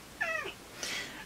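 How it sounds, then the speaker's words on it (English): A cat in a repair workshop gives a short, fairly quiet meow followed by a softer, breathy second sound, both close by with no talking. "Excuse the cat."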